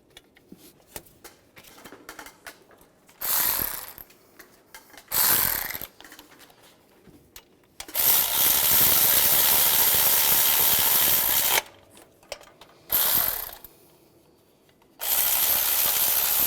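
A power tool runs down the new belt tensioner bolts on a 2007-2013 Chevrolet Silverado, in several bursts. The longest is sustained and whirring, and quieter handling noises fill the gaps between them. Close and loud, with no speech.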